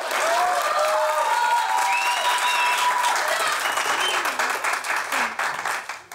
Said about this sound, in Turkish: Alkış. Alkış. Bravo. Bravo.